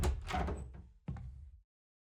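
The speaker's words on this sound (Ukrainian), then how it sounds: "Двері зачиняємо." A door swings shut in a video game, giving a muffled thud followed by a second sharp knock of it closing, close and fairly loud, then silence.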